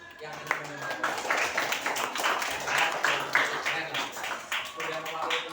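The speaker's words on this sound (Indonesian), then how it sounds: "coba tepuk tangan untuk yang menjawab" Classroom students clapping for classmates who answered, a steady patter of many hands throughout, with a teacher's voice talking over it.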